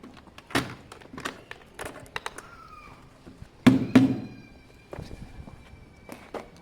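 A plastic universal moped rear box slides onto its locking mount and bolts down, giving a few hollow plastic thunks and knocks spread across several seconds, with two louder clunks near the middle and lighter taps around them.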